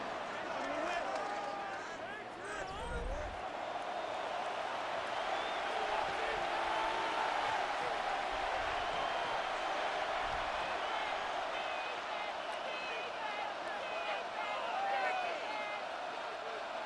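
Stadium crowd noise from the Madden NFL 26 football video game, a continuous roar with occasional thumps, heard under a commentator's steady play-by-play voice.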